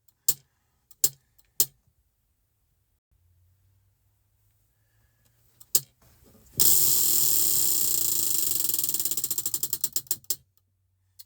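A few sharp taps come first, then a spinning prize wheel lets out a rapid, loud run of clicks that gradually slows into separate ticks before it stops.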